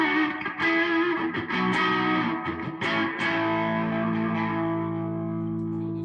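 Electric guitar played through a KT66 tube amp, pushed with a compressor and soaked in reverb: dense, distorted chords and sustained notes ringing continuously, loud and thick, ending on a long held chord.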